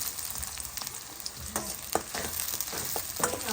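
Four onions frying in a pan as the base for chicken thokku, a soft steady sizzle broken by the scrape and clatter of stirring, fairly close and with no talk.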